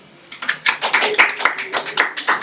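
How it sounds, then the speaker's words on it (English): An audience at an office awards event claps for a winning department, a quick run of rhythmic, fairly close hand claps that holds steady for a couple of seconds. "Maybe we can give them a clap."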